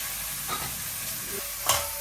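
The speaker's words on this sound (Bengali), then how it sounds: "এই যে এখন যে তেল দিয়ে দিচ্ছি মাছটা ভেজে নেই" Fish fries in hot oil with a soft, continuous sizzle and occasional sharper crackles and spits, one brief pop standing out near the end. Close and moderately quiet, with no voices.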